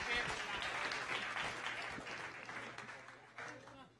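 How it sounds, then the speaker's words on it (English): At a science café talk evening, an audience claps in a fairly quiet, fading round of applause, with some voices mixed in. "I want everybody to give these folks one more round of applause."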